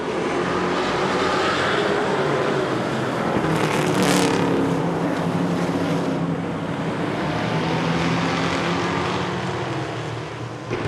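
Short track race cars roar together at the start of a 10-lap race, a loud continuous engine drone that swells as the pack passes close, then holds steady with layered motors throughout.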